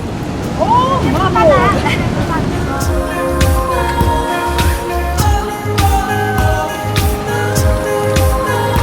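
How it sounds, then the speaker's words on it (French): Sea waves surge into a rock pool on the coast of Madeira with a loud, continuous wash and churn of water and wind noise. A voice calls out over the water, followed by a steady layer of background music. "c'est vraiment l'eau de la mer là, qui embarque là-dedans"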